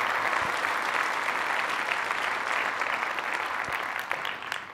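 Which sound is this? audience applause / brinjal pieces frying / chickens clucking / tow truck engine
audience applause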